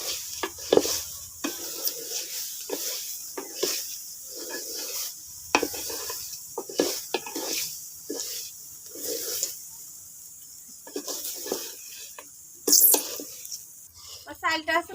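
Onion paste and rice frying in a pot for pulao, stirred in a rhythmic run of scraping, sizzling bursts about a second apart, with some talking nearby.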